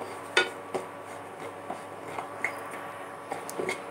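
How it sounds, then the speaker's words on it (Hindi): A spoon scrapes and taps against a pan while dalia is stirred and dry-roasted, giving a sparse series of light metallic clinks and scrapes, quiet and close, with no talking. "इसको अच्छे से भुनेंगे और इसको चलाते रहेंगे ताकि ये जले ना"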